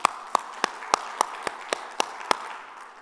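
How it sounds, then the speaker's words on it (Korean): Church congregation clapping in unison, about ten sharp, evenly spaced claps in a steady rhythm that end with a faint trailing echo. "믿으시면 하나님께 영광의 박수 올립니다"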